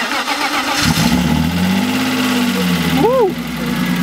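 BMW E36 engine cranks and fires up on a winter night, the starter catching into a loud rising rev before settling, with a brief whistling squeal near the end.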